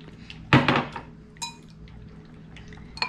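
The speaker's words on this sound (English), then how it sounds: "We're gonna stir this up." Broccoli salad dressing stirred in a bowl: a loud burst of wet scraping and clinking utensil against dish, followed by a few lighter clinks and taps with quiet pauses between.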